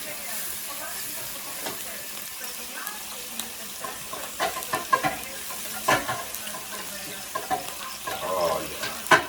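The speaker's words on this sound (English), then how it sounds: "Always clean my pans when they're hot." A hot pan being cleaned sizzles and hisses with water, with scraping and irregular clattering strokes that grow busier toward the end, close and moderately loud.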